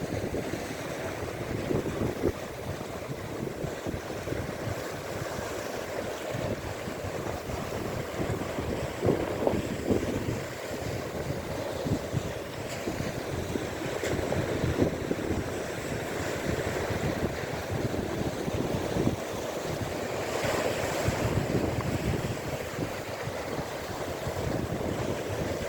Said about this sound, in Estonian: laine peksab ikka vahust vastu kive.